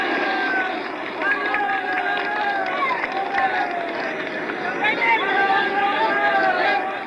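Jubilant crowd in a dusty square as a statue topples during the fall of Saigon, a dense roar of cheering, chatter and shouts filling the whole span, loud and continuous with rising and falling voices.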